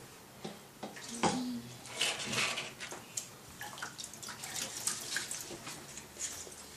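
Water splashes and drips nearby as a pot lid is washed by hand in a sink or tub, with irregular sloshing and small clinks, plus a voice now and then.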